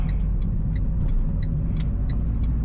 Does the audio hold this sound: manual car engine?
yes